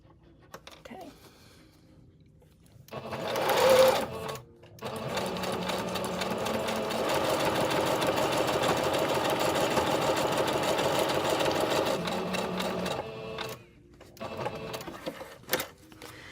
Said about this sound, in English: I need to stitch down the purple and the top.